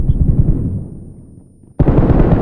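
In a video game, a close, heavy bomb blast fades into a rumbling tail, then is cut off by loud, sudden gunfire.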